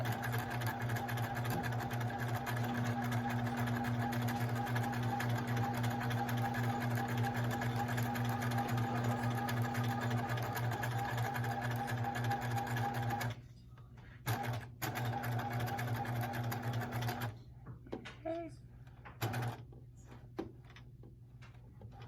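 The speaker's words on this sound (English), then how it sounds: "now it's going to zigzag over that stitch that I just did" Sewing machine zigzag stitching a bar tack, a fast steady mechanical whir with rapid needle ticks running for about thirteen seconds, then stopping and restarting in short bursts amid quieter pauses.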